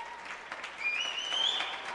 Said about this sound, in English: would you please give a huge round of applause to these dancers